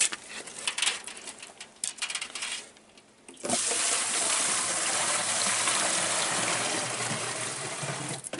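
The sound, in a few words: water flowing from a holy spring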